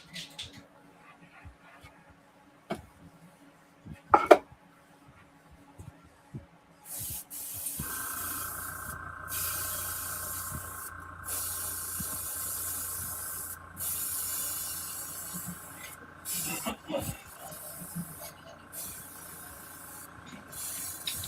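An air compressor drives a paint sprayer coating a 3D printed bust, giving a sustained hiss broken by short pauses that follows a quieter stretch of small handling noises.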